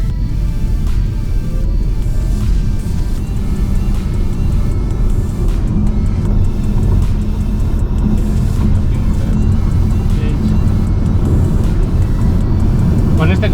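A Cupra Born accelerating hard on a test track, heard from inside as a steady, loud low rumble of road and drive noise that holds throughout without a break.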